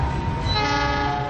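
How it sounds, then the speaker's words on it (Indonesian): A train rolls past on the tracks close by, its horn sounding a loud sustained tone over the rumble of the moving cars. "mereka justru asik menonton kereta melaju"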